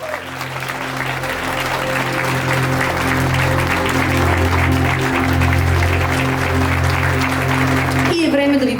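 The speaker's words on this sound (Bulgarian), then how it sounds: "Аплодисменти за родителите на младоженците!" Wedding guests break into sustained, loud applause for the couple's parents, steady clapping from a large crowd filling the room with music underneath, ending abruptly near the close.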